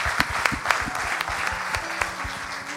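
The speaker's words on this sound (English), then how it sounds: "Can we give him applause for that?" A church congregation bursts into applause, a steady patter of many hands clapping at close range, with a few sharper individual claps standing out.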